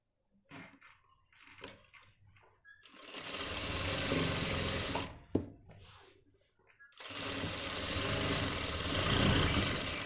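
Sewing machine stitching a men's pant front pocket, running in two long steady bursts of fast, loud whirring, with short pauses between them where someone speaks quietly.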